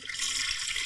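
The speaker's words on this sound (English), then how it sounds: "We're flushing it." A toilet flushes with a loud, steady rush of water that fills the whole second, close by and with no voices over it.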